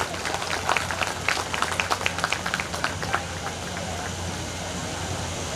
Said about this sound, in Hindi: इनके लिए एक बार जबरदस्त तालियां की जाए